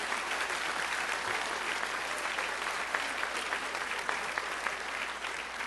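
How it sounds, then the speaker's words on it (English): A college auditorium audience gives a round of applause, dense even clapping that holds steady from start to finish, with no talk over it. "A big round of applause to all of them."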